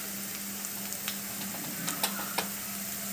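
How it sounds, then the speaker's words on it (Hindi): Masala spices with coriander powder and red chilli fry in a pan for samosa filling, giving a soft, steady sizzle with a few faint ticks and stirring scrapes, quiet and close. "थोड़ा सा फ्रेंड्स हम गरम मसाला डाल के इसी मसाले को भून लेंगे"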